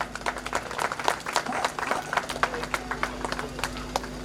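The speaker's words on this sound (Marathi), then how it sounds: "सगळ्यांनी जोरात टाळ्या वाजवायच्या." Wedding guests clap loudly and steadily to honour the couple during a Marathi ceremony, a dense run of close hand claps with a voice talking over it.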